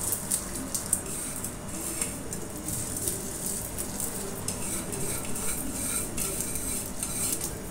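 Crushed spices being mixed with salt and cumin for a beef dum pukht, giving a steady scraping, clinking stir of a spoon against a bowl that runs continuously and fairly close, with no talking.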